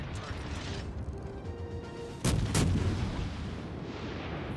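Bombs exploding in the World of Warships Legends naval battle game: two heavy booms land close together and stand out over a steady rumbling background.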